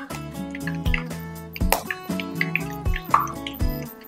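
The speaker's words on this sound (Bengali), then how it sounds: "এইভাবে আমি ওপর দিয়ে তেলগুলো" Hot oil is poured over chili garlic potato balls as they fry, giving close, busy sizzling with bubbling drips and small plops in irregular bursts, and no talk.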